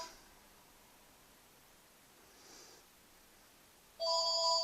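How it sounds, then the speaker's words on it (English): A telephone rings indoors, its electronic tone starting abruptly near the end and staying steady and fairly loud after a quiet stretch of faint rustling. "Okay, that's the phone."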